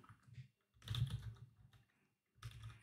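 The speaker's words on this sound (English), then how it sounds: "And here you could type" Computer keyboard typing in quiet bursts, a short flurry of key clicks, a pause, then a longer run of keystrokes and another burst starting near the end, close and fairly soft.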